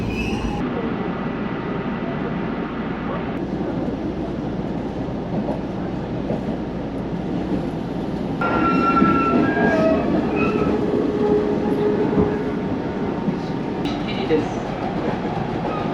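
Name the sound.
train arriving at station platform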